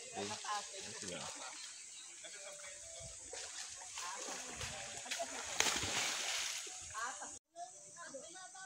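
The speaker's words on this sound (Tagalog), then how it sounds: "Guys, ito na yung ilog." Swollen river water after overnight rain rushes and splashes in a broad hiss at a camping site, with voices talking over it; the sound cuts out briefly near the end.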